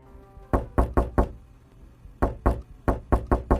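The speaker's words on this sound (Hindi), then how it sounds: "लेकिन उसी पल दरवाजे पर दस्तक हुई।" Knuckles rap on a door in two bursts of four sharp, close knocks, each burst evenly paced, with a short pause between them and no voices.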